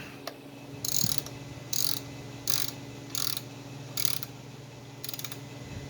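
A torque wrench ratchets while tightening a bolt on a Mopar 727 Torqueflite transmission during a rebuild. It gives five or six short, crisp clicking bursts at a steady rhythm, close by, with quiet pauses between them.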